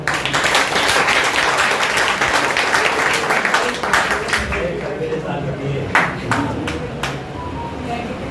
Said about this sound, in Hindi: अकाउंट के लिए ताली बजा दो एक बार